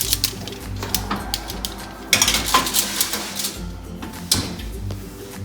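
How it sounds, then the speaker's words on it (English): A baking tray of tomatoes, garlic, shallots and peppers set into an oven, with clattering metal clinks and knocks of pan against rack, several sharp clanks over a steady kitchen background. "we're gonna put that in the oven"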